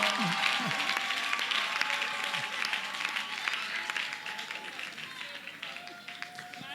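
Audience applause at a televised group competition show, a dense steady clapping wash with crowd noise and cheering over a tonal music bed, sustained throughout at moderate level.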